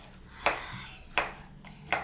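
A knife strikes a cutting board three times at a steady, unhurried pace while vegetables such as beetroot, potato, carrot and cucumber are chopped for a vinegret salad, each chop a crisp, close tap over a quiet room background.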